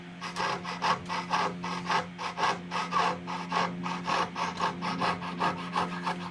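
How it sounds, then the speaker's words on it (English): A fine-toothed hand saw, sharpened for rip cuts, cross-cuts wood for a small kitchen shelf, giving steady rhythmic rasping strokes, close and clear, about two per second with no talk. "And here, even though it's sharpened for rib cutting, it cross-cuts fine."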